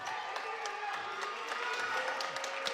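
Crowd at a men's varsity high school basketball game between Aiken and Northwest applauding and cheering, a steady wash of clapping with scattered shouts, heard from a distance at moderate level without commentary.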